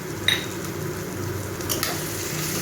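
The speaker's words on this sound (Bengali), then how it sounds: "এটা আর একটু ভাজা ভাজা করে নেব।" Chopped green chillies and prawns fry in a pan with salt and sugar, giving a steady, close sizzle with a few brief clinks and scrapes near the start and middle.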